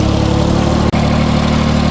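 A tractor engine idles steadily and close by in a farm setting, a continuous low mechanical rumble with one momentary dropout partway through, and no talking.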